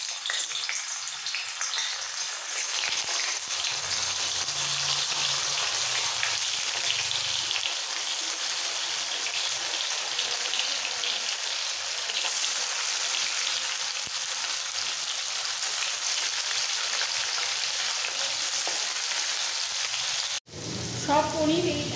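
Paneer pieces fry in hot refined oil, a steady dense sizzle filling the whole stretch at close range, with a brief sharp drop near the end before the crackle resumes.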